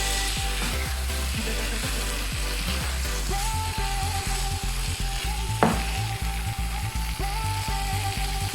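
Spicy Sri Lankan-style mutton liver fry sizzling with curry leaves as a spoon scrapes and stirs the pan, a steady close hiss under rhythmic scraping strokes and one sharp knock.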